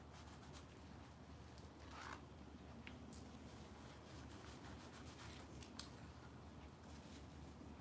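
Chalk paint being rubbed off a canvas transfer in a mixed-media art piece, a continuous soft scratchy rubbing that runs steadily with no pauses, close and fairly quiet, with no speech.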